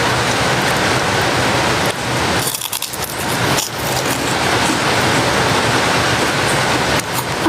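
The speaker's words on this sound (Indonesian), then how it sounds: "Ini hujan pakai angin ini." Steady, loud rain driven by wind roars without a break, with a brief dip in intensity partway through before the heavy wash returns.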